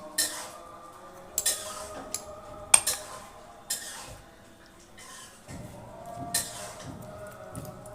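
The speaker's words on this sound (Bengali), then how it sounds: "এবার শুকনো উপকরণগুলো আগে একটু মিক্স করে নিই লবণ দিয়ে দিচ্ছি" Dry flour with salt being mixed by hand in a bowl for nimki, giving soft scattered clinks and scraping taps at an irregular pace, fairly quiet and close, with no talking.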